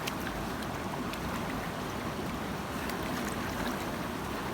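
A gold pan shaken back and forth in water to settle bedrock material while panning for gold; a continuous wash of sloshing, swirling water, fairly close and even, with no talking.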